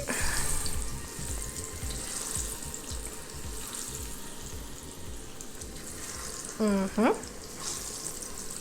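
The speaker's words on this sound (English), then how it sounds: "our oil is nice and hot, so we are gonna add our plantain to the pan, to the skillet" Plantain pieces frying in hot oil in a skillet give a steady, close crackling sizzle throughout, with a brief clatter of utensils near the end.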